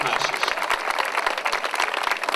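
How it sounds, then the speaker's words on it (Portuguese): An audience at a local festival march gives a big round of applause, dense continuous clapping with some individual sharp claps standing out, fairly loud and sustained. "uma grande salva de palmas para o Francisco Araújo"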